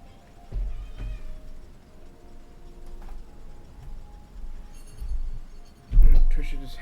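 A cat meowing indoors, a few short mews scattered through quiet room noise, ending with a louder call near the close.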